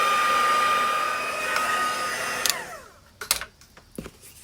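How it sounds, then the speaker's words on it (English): A handheld heat tool blows hot air over fresh nail polish to set it, giving a steady whirring hiss that runs for a few seconds before it shuts off, leaving small clicks and handling noises. "I'm going to take the heat tool now"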